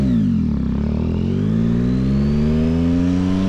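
A 2024 Yamaha MT-09 SP motorcycle with its exhaust baffle removed revs steadily, a loud, close, continuous engine roar whose pitch climbs smoothly and holds without pause, no voices over it.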